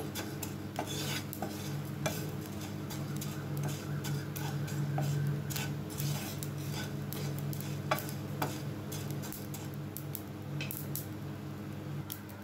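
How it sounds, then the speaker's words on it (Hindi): Fenugreek seeds dry-roasting in a pan over a low flame, with steady soft stirring, scraping and faint ticking as the seeds shift, a close continuous texture without speech. "मेथी दाना इसे रोस्ट करेंगे इसे हम लो फ्लेम पे ही रोस्ट करेंगे"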